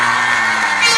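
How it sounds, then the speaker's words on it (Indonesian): A crowd cheers and whoops for Erick Thohir at a large religious gathering, a loud, continuous wash of voices with a steady tonal hum underneath, brief and sustained throughout. "Tepuk tangan untuk Pak Erick Thohir."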